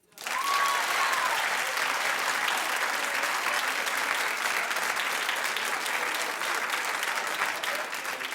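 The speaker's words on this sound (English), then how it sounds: "Clap if you're with me" A studio audience at a daytime talk show bursts into loud, continuous clapping that holds steady for about eight seconds, with a brief vocal whoop near the start.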